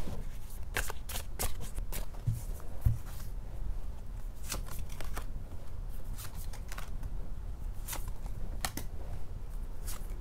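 Tarot cards shuffled by hand in continuous riffles and flicks, close and crisp, with irregular sharp card snaps over about ten seconds and no talking.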